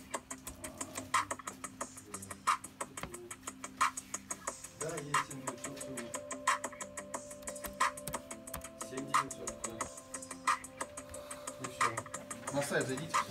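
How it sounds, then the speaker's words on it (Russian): Keys clatter on an Acer laptop keyboard being checked, a quick irregular patter of clicks running steadily throughout at moderate closeness, with a voice talking quietly over it. "Также проведем проверку клавиатуры."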